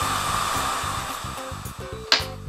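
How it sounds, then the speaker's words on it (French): A hair dryer blows in a steady, loud broadband rush over light background music, running continuously for the whole stretch. "Ou encore, c'est comme sèche-cheveux."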